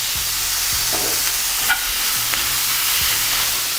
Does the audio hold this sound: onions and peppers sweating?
yes